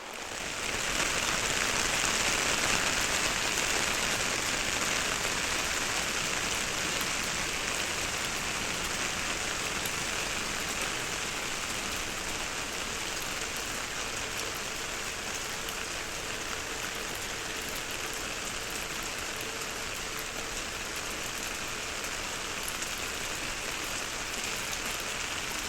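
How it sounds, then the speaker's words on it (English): Heavy rain falls steadily around a recordist standing under an umbrella outdoors, a dense, even hiss of drops on surfaces that stays close and constant throughout with no voices. "As you can hear, the rain is picking up"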